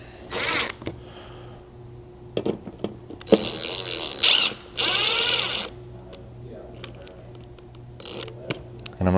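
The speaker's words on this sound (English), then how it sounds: "So using a 4mm Allen socket, I'll kind of just lightly tighten these up." A driver with a 4mm Allen socket lightly tightens bolts on a 3rd gen Toyota 4Runner roof rack bracket in short whirring bursts mixed with clicks and handling noises, with a steady hum underneath.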